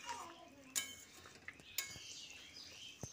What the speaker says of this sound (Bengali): মাছগুলো দিয়ে একবার মিশিয়ে দিচ্ছি।